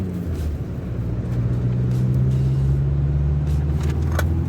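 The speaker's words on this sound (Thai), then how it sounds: "ตอนนี้เพิ่งขึ้นเกียร์สองก็ถือว่าขึ้นเร็วพอสมควร" A Mazda BT-50 1.9 pickup accelerates in second gear, its engine drone rising steadily in a loud, close cabin hum with road rumble beneath and faint clicks on top.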